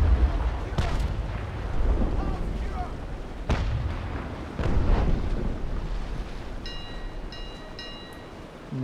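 Heavy cannon broadsides from sailing warships in the naval battle game Naval Action: several deep, rumbling booms at uneven intervals, separated by a low roar, with a few brief bright chime tones near the end.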